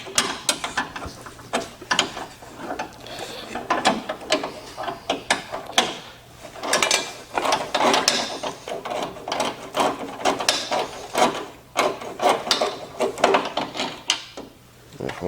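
A hand ratchet works on the grill bolts of a Hummer H3T, giving repeated rapid clicking bursts at close range with short pauses between strokes, and no talk over it.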